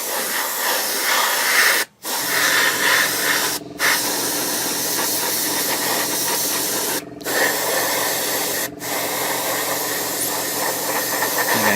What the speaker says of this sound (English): Quick blast of air. Just make sure there's no dust on there.